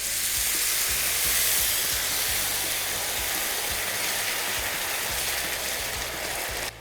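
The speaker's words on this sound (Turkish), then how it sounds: "Kavurduktan sonra yaklaşık bir su bardağı kadar suyum var." Water added to a sautéed spiced rice filling for artichoke dolma, a loud continuous sizzle and hiss in the pan with a steady clicking underneath, close and without talk, cutting off at the end.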